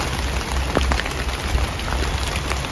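Steady rain patters densely on a surface, with scattered heavier drops hitting close by, continuous and fairly loud.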